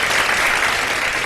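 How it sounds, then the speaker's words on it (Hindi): Studio audience applause for three contestants on a Ramadan iftar TV show, a loud, dense wash of many hands clapping that holds steady for the whole short moment. "बहुत सारी तालियां हमारे तीनों कंटेस्टेंट्स के लिए"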